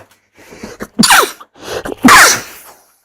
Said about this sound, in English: Sneeze attack.